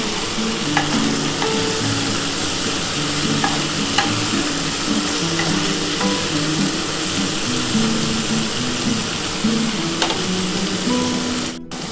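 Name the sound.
yardlong beans, potato and onion frying and stirred in pan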